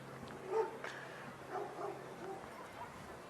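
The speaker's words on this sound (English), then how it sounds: "some of the service dogs with the Manchester PD" Manchester police service dogs bark and yip at an outdoor Christmas parade, several short barks scattered over a few seconds, moderately close amid crowd noise.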